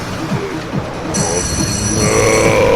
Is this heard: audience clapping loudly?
no